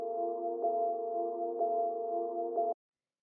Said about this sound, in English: So then the next layer here is this little pad thing that plays through.